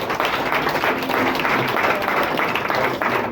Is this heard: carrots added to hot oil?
no